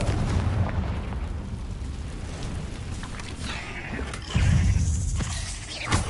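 Spell blasts in the Hogwarts Legacy video game: a steady low rumbling bed with a heavier boom near the end, followed by another short burst.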